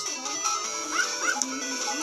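A cartoon dog character in the mobile game Infinite Stairs gives two short, high yips, fairly faint under steady synthetic game music.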